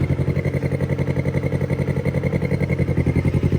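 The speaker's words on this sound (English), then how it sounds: "Motor is running." A Kawasaki Ninja 250R motorcycle engine idling steadily at close range, with a fast regular pulsing beat and light mechanical clatter, no voices over it.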